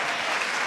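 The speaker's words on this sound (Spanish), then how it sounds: "Fuertes aplausos a nuestro Dios en esta tarde." A church congregation bursts into loud, dense applause during an evening service, a continuous wash of many hands clapping together.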